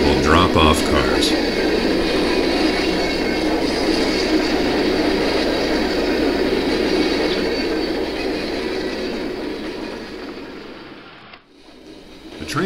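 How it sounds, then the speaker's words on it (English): A Bachmann and Athearn model train set runs on a DC layout with a continuous close rumbling and whirring hum that gradually fades, dropping to near quiet before picking up again. "our Bachmann-Athearn train has arrived at West Mill, where it will drop off cars."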